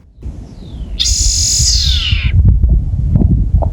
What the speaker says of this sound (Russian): засняли птичку с интересным звучанием